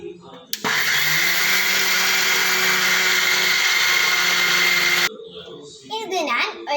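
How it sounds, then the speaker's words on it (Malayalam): A mixer grinder whirs loudly and steadily as it grinds washed ragi in its jar, a continuous close roar of several seconds that cuts off abruptly, followed by a voice. "അപ്പോൾ ഞാനിവിടെ മിക്സിയുടെ ജാറിലേക്ക് ഇട്ടിട്ടുണ്ട്. ഇനി നമുക്ക് ഇത് നന്നായിട്ട് അരച്ചെടുക്കണം."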